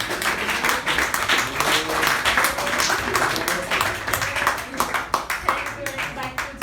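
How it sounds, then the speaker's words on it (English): Audience applause fills a meeting room, a steady mix of many hands clapping that runs evenly throughout, with some voices mixed in beneath. "let us have a huge round of applause for the therapist in our room"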